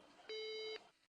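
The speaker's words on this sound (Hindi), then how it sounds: "आपका फोन डिस्कनेक्ट हो गया।" A single steady electronic telephone beep sounds for about half a second after a phone call cuts off, clear and close, with no speech.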